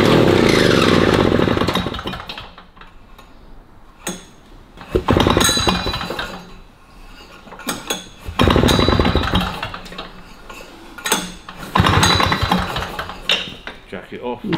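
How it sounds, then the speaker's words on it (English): An Alpen3 MTA90 engine with no choke starts and warms up under throttle, giving a loud, rough buzzing roar that surges and drops repeatedly as the revs are blipped, with clanks and rattles in between. "give it a bit of throttle and give it a bit of time to warm up."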